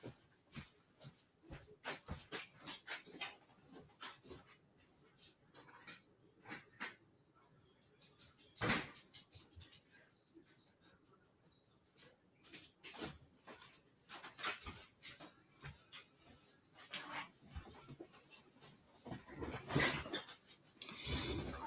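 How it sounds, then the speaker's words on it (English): A pet dog wanting to come inside makes scattered whimpers, sniffs and scratchy thumps at a door, close and irregular, with quiet gaps between bursts over about twenty seconds. "my dog's wanting in. I'm gonna let my doggy in real quick."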